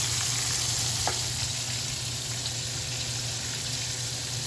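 Chicken wings frying in oil, a dense, loud, constant sizzle and crackle from close by, with a low hum beneath and no voices.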